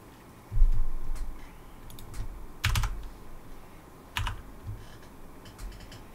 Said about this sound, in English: One student is typing.